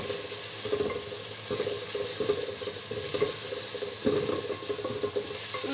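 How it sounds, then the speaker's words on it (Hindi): Spinach and mutton sauté in a pot for palak gosht, giving a steady close sizzle with soft scraping stirs at intervals and no talking. "इसको भी भूनेंगे हम 2 मिनट के लिए भून लेंगे"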